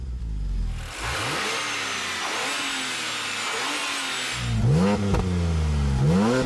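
A BMW Z4 Coupe sports car engine revs hard, a sustained loud roar through the middle, then sharp throttle blips with rising and falling pitch near the end, close and without talk.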